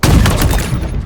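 Sniper rifle gunfire in a shooter video game, a loud, close blast followed by a dense, rumbling boom that fills the short moment and fades only slightly toward the end.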